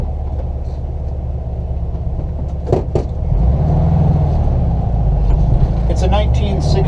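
A 1969 Volkswagen Westfalia camper drives along a street, its engine a low steady rumble that grows louder and fuller partway through, with brief squeaks and clicks over it.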